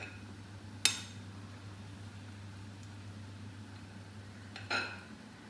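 Two separate clinks of serving utensils against dishes while masoor dal and rice are dished out, one near the start and one near the end, over a steady low hum.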